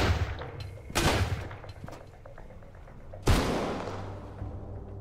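Gunfire in the Sunkenland video game, a few sharp, loud shots spaced apart, each followed by a decaying rumble against a low background hum.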